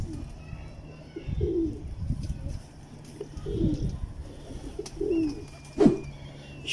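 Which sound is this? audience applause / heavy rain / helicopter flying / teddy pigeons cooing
teddy pigeons cooing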